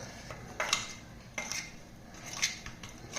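Spiced eggs being mixed in a pot with garam masala and cumin-coriander powder for egg biryani, giving several distinct metallic scrapes and clinks of a utensil against the pot, close and clear with no talking.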